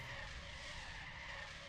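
A car's handbrake skid in Car Dealer Simulator, a steady tire squeal with engine noise that holds for under two seconds.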